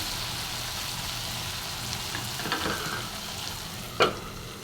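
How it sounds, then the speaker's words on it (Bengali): Okra and potatoes fry in a pan with a soft continuous sizzle, quiet and even, punctuated by a couple of faint clicks and one sharp tap near the end. "ওটাকে বলে ঢেঁড়স আর আলু তো ফ্রাই হচ্ছে"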